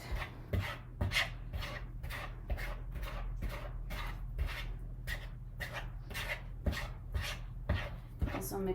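A dough whisk works through sourdough ciabatta dough in a bowl, a soft, rhythmic series of wet scraping strokes, roughly one or two per second, close and quiet against a low hum.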